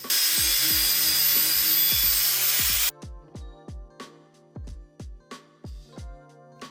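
An angle grinder carving a salvaged piece of wood into a teddy bear gives a loud, continuous high-pitched grinding whine for about three seconds, then stops. A series of short, knocking taps follows.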